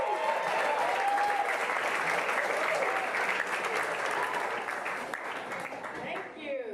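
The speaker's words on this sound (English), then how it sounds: "Clap your hands, let her hear you." Comedy club audience clapping and cheering as a stand-up comedian takes the stage, a dense, steady roar of applause at moderate distance with a faint voice underneath, easing slightly toward the end.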